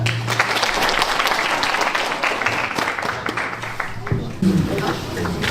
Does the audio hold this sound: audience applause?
yes